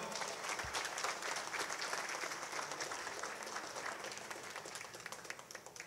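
Crowd at a 50th birthday celebration giving guests, including a district mayor, a hearty round of applause, a continuous dense clapping heard from a moderate distance throughout.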